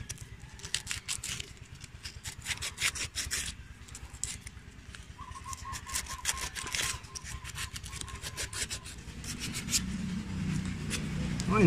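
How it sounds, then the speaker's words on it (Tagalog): Sandpaper rubs back and forth on the carbon brush contact of a Rusi 175/125 motorcycle starter, producing repeated close scratchy strokes, with a louder rougher rasp toward the end. "lilihain lang natin para matanggal tong medyo itim-itim"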